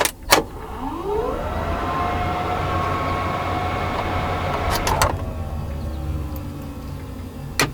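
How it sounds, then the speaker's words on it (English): A helicopter's blower switches on with a click, spins up into a rising whine and then holds a steady hum over a low rumble. Sharp clicks break in midway and again near the end. "even just turning the blower on"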